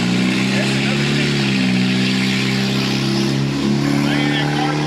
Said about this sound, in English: I hear that car going by.